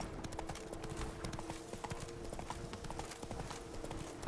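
Horse hooves clip-clop at a steady walking rhythm in The Witcher 3: Blood and Wine, moderately close and continuous, with a low background music bed and no talk.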